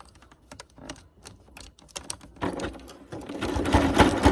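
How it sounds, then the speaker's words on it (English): A sewing machine stitches down a seam. It starts with scattered clicks and short needle bursts and then settles into a steadier, louder mechanical whir and rattle, close by, with no talking. "Now you're gonna sew down the other side."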